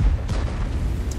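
A tank is hit and destroyed in the World of Tanks video game, with a Scorpion G tank destroyer in play. A single short, deep, booming impact fills the whole brief moment.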